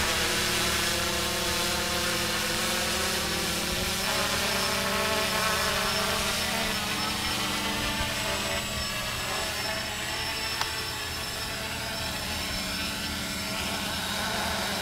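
A small remote-controlled aircraft returns and descends on its own during a fail-safe test, its motor a steady buzzing drone with a high whine, loud and continuous throughout.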